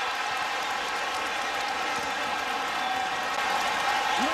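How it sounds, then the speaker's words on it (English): Crowd noise fills a basketball arena during a 2010 Missouri versus Kansas State game, a steady, loud roar of cheering that holds throughout and swells slightly near the end. "Listen to this crowd."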